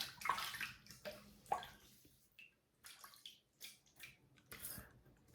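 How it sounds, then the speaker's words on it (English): Water splashing as hands wet the face before a shave, several close splashy bursts with drips and pauses between them. "So let me wet the face and we'll get started."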